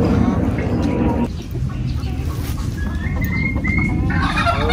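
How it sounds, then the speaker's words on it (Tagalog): A flock of chickens, breeder gamefowl, cluck and gobble close by in a constant, noisy chatter, with a few higher squawks cutting through. "minom na po yung ating mga alagang manok"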